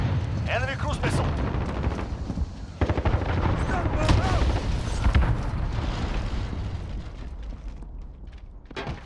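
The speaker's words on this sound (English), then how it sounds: "Enemy cruise missile." A cruise missile strike rumbles through a Call of Duty Modern Warfare multiplayer match, dense booming explosions and gunfire blending into a continuous loud roar while game voices call out over it.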